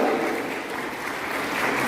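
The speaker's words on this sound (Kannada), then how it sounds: "ಚಪ್ಪಾಳೆ ತಟ್ಟುವ ಮೂಲಕ" An audience at a sociology department program claps together, a dense sustained round of applause heard up close with no break.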